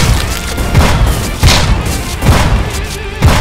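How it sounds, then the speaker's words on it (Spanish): Heavy booms from a shotgun in a horror-themed video game, about four loud blasts spaced roughly every 0.7 seconds, each with a thudding low punch and a short rumbling tail over game ambience. "Vamos a sacar la escopeta."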